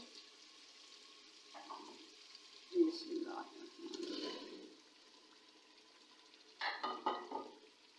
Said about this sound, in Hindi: अब मैं इसमें टिंडे डालती हूँ।